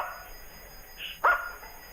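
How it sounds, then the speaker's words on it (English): A dog gives a short, sharp bark near the middle, with a faint higher yelp just before it, heard close by against a quiet background. "My dogs are taking over this show."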